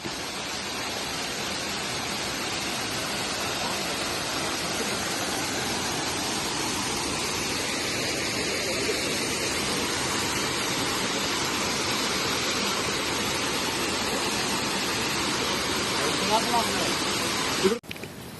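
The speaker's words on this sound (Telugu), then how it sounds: "ఇక్కడ నేను కొద్దిసేపు వాటర్ ఫాల్కి సౌండ్ ఆఫ్ చేయకుండా ఉంచాను" A waterfall roars steadily and loudly as a dense, unbroken rush of falling water that holds level throughout, cutting off abruptly at the end.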